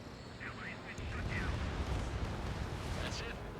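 An enemy bomber explodes after being shot down in an Ace Combat video game, a deep rumbling blast sustained under game radio chatter and a voice talking over it.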